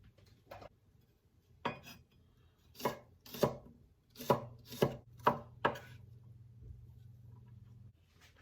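A knife cuts the edges off a loaf of challah on a board, giving about eight separate soft chopping thuds, close and fairly quiet, with a faint low hum underneath.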